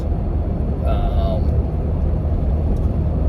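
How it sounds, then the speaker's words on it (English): Road traffic rumbles past near Kejimkujik National Park in Nova Scotia, a loud, steady vehicle roar filling the clip, with faint voices briefly over it. "got distracted by traffic"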